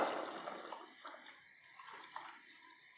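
Faint trickle of water being poured into a pot of hotel-style mutton boti curry, about one and a half cups, a soft running splash that tapers off with no talking.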